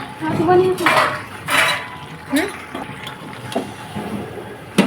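Potatoes drop one by one into a pot of chicken curry, each landing with a clattering knock of metal and a splash, a handful of separate hits, close and fairly loud.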